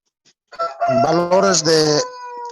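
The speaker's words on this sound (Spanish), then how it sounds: "Hasta el gallo quiere responder, creo, ¿no?" A rooster crows once near and loud, a single drawn-out cock-a-doodle-doo of about a second and a half, rising and breaking into ragged harmonics before trailing off, with no talk over it.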